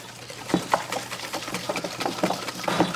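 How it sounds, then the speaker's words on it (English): A whisk beats sugar into a mixture in a bowl, making a steady, close run of quick rhythmic clicks and swishes with no talk. "Can I get a turn whisking?"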